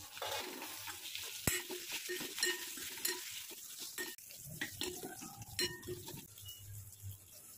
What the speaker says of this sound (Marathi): त्याच्यामध्ये हे जे वांगे आहेत हे असे परतवून घ्यायचे